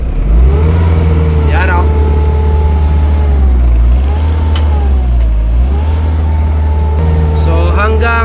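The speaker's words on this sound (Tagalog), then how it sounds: "I-try nating i-rev ang makina ngayon" An Isuzu 4HL1 diesel engine with a low-power fault revs up and down in a steady drone, pitch rising and falling twice, loud and close, with someone speaking briefly over it.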